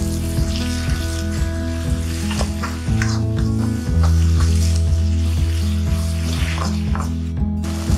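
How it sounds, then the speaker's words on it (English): Chopped capsicum and tomatoes saute in a hot pan for masala macaroni, a steady close sizzle that holds through the clip with some stirring, growing a little louder partway through. "Now add chopped capsicum and chopped tomatoes and saute for another"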